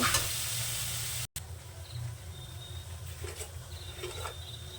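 Cashew and poppy seed paste spice mixture frying in a pan on low heat for a potato and green pea curry, a soft steady sizzle with brief scraping stirs, close and without talk.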